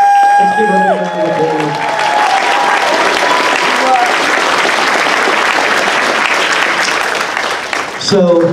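A convention crowd at a costume contest breaks into loud sustained applause with some cheering, a voice trailing off at the start and the clapping holding steady before dropping away.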